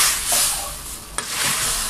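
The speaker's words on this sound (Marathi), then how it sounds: "मिरची पावडर घातली की गॅस बंद करू। याला अगदी 4 ते 5 सेकंद या तुपामध्ये परतायचं आणि गरमागरम तडका डाळीवर ओतायचा" Hot ghee tadka with chili powder poured over cooked dal, giving a soft, brief hiss and sizzle close by, with one sharp clink partway through and no voices.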